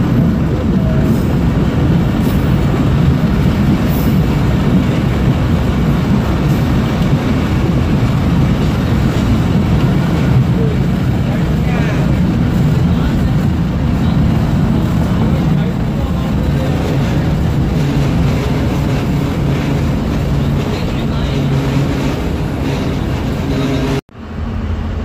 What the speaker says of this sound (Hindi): जबकि उस वक्त मिल्लत एक्सप्रेस बिल्कुल मेरी ट्रेन के पीछे ही चल रही थी।